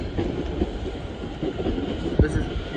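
An Avanti West Coast Pendolino bound for Euston runs through a station at speed, its wheels and carriages rumbling and clattering up close over a few seconds, with a brief squeal near the end.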